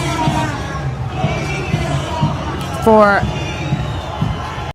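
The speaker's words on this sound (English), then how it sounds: "You could hear the crowd." A street protest crowd, caught on a phone, rumbles and murmurs beneath a nearby speaking voice, with a brief louder burst of shouting midway.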